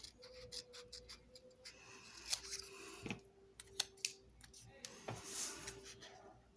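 Scissors cut through craft paper for a card project, giving a series of close, sharp snips and crisp clicks at irregular intervals, quiet overall with no talk.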